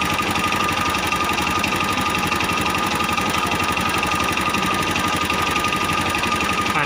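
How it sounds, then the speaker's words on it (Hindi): A TVS Sport motorcycle engine running steadily with a throbbing, slightly knocking mechanical beat, loud and close, holding an even speed throughout with no talk. "देखिए इसके RPM बढ़ रहे हैं अपने आप"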